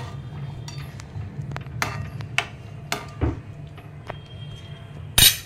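A spoon stirring dhaba-style dal tadka in a metal pot after salt is added, with scattered light metallic clinks and scrapes and one sharper knock near the end, close by with no talk.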